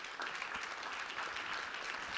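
At a deep-tech startup pitch competition semifinal, an audience claps in a steady, fairly quiet round of applause after a presentation, many hands blending into an even wash with no speech over it.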